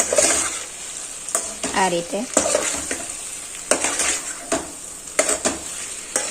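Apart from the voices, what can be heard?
stirring pasta in a pan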